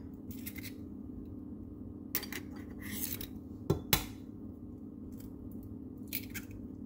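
Eggs cracked one after another against a bowl for a pineapple cream cheese pound cake batter, giving several close, sharp taps and cracks with quiet shell handling between them and no talking.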